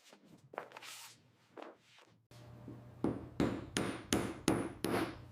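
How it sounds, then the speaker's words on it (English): Hammer striking the seams of a bull leather bag in a factory workshop: a few soft taps at first, then a steady series of sharp, ringing blows about every half second, close and distinct. "hammers the seams to define the bag's crisp silhouette"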